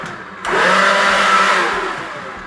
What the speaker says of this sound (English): when I put that on maximum, you can feel the blower pushing back into your hands.